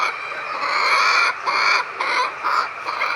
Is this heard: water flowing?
no